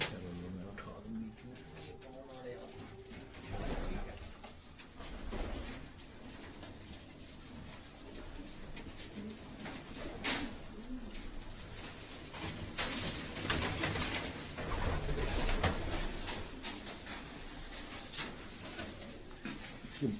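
Racer pigeons cooing softly at close range amid handling noise and background rustle, with occasional wing flutters over about twenty seconds.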